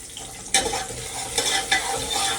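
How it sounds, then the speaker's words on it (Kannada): Spices and grains roasting dry in a pan, crackling sizzle with a few sharp stirring scrapes close by, no voices. "ಆ ಕಾಳು ಎಲ್ಲ ಫುಲ್ಲು ರೋಸ್ಟ್ ಮಾಡ್ತಾ ಇದ್ದಾರೆ"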